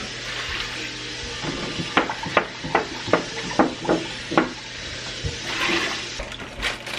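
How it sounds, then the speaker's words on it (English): Berkey-filtered water glugs out of a gallon jug into a pot in rhythmic bursts, close and fairly loud, followed by a softer, steadier pour. "I'm gonna add 16 cups of water."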